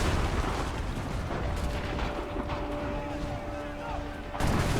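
Enemy gunfire in the Assassin's Creed 3 video game forms a dense, loud, continuous battle din of overlapping shots and booms. It holds steady for several seconds with a brief dip near the end.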